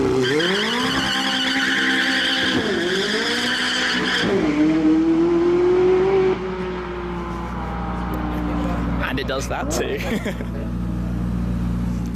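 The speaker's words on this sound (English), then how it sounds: "The burnout mode then, what you've just witnessed" A McLaren 675LT in burnout mode screams with engine revs and squealing, skidding tires, loud and close, settling into a lower rumble partway through while someone talks over it.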